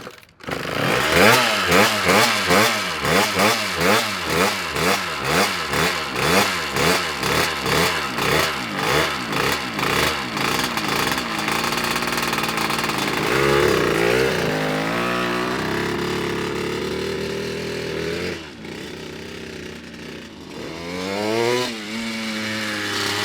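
A Harley-Davidson motorcycle fitted with a two-stroke engine revs loud and close in rapid rhythmic bursts, then settles into a sustained high buzzing drone before climbing again near the end.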